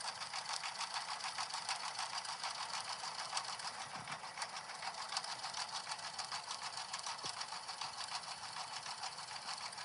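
An embroidery machine stitching out a hive design runs with a fast, even mechanical whir and needle chatter, steady and moderately faint for the whole stretch with no talking.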